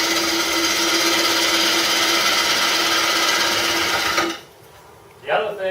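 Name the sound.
wood lathe turning a bowl, gouge slicing wood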